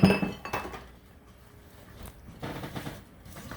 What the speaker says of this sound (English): I have 2½ cups of chopped pecans. I'm just going to stir those in.